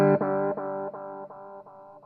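Sustained electric guitar chord through a VHS-style echo pedal with a worn-tape effect, played alone, loud and distorted, fading slowly as repeats retrigger about every third of a second.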